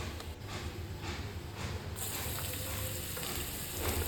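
Cumin, asafoetida and ajwain frying in hot oil in a pan, a steady close sizzle with occasional stirring, alone without talk.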